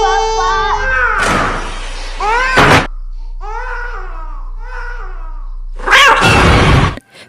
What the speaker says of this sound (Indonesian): ternyata itu hanya kucing